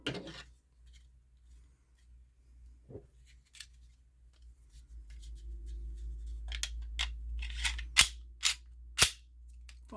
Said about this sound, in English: Drop that in. Put your recoil spring back in.